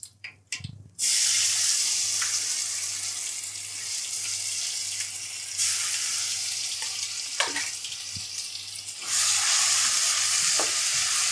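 Ginger, chili and garlic paste dropped into hot oil with cinnamon and cloves for a whole-onion curry, erupting into a loud, sustained hiss and sizzle after a few opening clatters, easing and then surging again.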